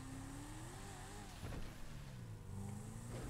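A race car engine in GTA V droning and shifting pitch as it accelerates, fairly quiet and continuous, with a brief whoosh in the middle.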